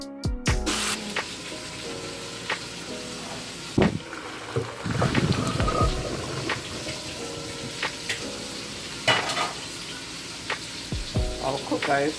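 Shrimp fry in a pot for a shrimp and chicken Alfredo, a steady close sizzle and crackle running throughout, broken by a few sharp utensil clanks.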